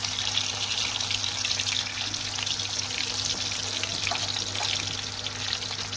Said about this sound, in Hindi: एक साइड से इनको फ्राई करने के बाद मैं इसकी साइड बदलूँगी